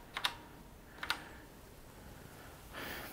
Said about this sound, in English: If I type in 162,